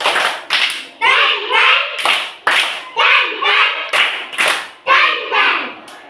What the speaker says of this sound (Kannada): ಓಕೆ. ಗಂಟೆ ಚಪ್ಪಾಳೆ.